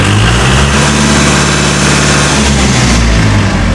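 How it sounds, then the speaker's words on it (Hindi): A Kubota MU4501 4WD 45 hp diesel tractor engine idles steadily and loud up close, a low rumbling throb with a faint rhythmic knock, running continuously without voices. "ये ट्रैक्टर अभी चालू कंडीशन में है और इसका साउंड आप सुन सकते हैं"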